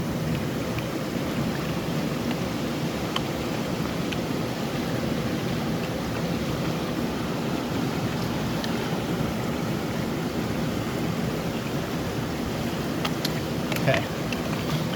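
Fast, high-running creek rages in a steady, dense broadband rush throughout, close and unbroken, with a few faint clicks near the end.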